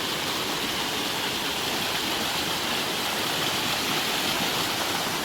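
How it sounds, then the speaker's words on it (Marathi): A stream in the countryside, where people were catching fish, rushes steadily and loudly. It makes a dense, even hiss of flowing water that fills the whole stretch without a break. "पाण्याचा आवाज भरपूर आहे."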